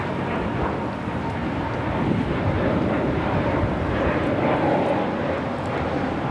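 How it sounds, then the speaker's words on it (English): A Spirit Airlines A320neo jet takes off from LAX, heard as a steady, loud, broadband engine roar with some wind noise. "This is Spirit Airlines Flight 1677 taking off to Dallas-Fort Worth on the A320neo"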